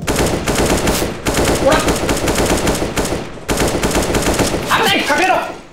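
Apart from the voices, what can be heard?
AK rifle gunfire in video game Counter-Strike: Global Offensive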